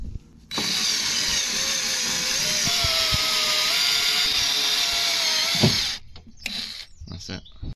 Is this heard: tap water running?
no